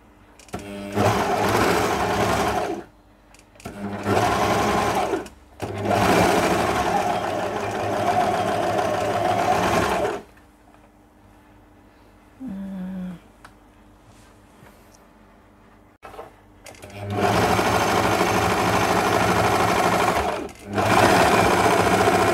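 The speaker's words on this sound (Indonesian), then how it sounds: "Ini obras 4 benang, tensionnya 444 ya." A 4-thread overlock sewing machine with its tension set at 444 runs loud and close in sustained buzzing bursts of several seconds, stopping for short pauses and one longer quiet gap before starting again.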